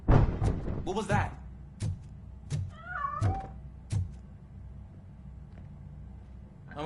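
Cat meowing in Robocop Rogue City, a couple of short gliding meows in the middle, surrounded by heavy footstep thuds and a quiet game background.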